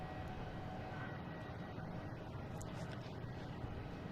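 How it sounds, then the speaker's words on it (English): An Airbus A321neo jet airliner arriving at Boston Logan International Airport makes a steady, distant broadband roar that holds evenly throughout, with no talk over it. "Next coming in is Delta, coming in from Seattle, an A321neo flight 412."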